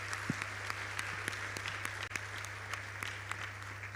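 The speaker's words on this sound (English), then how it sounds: "I believe that's not enough applause for this wonderful speech." Steady applause from an audience at a college founding chancellor inauguration ceremony in Kigali, following a speech: many hands clapping in a dense, even patter that fills the room and continues throughout without a break.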